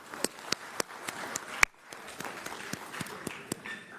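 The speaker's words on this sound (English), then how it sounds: "So if we give them a quick round of applause." A small conference panel audience gives a brief round of applause: sparse, separate claps spread across the room, fairly close and moderately loud, with a few sharper hits standing out.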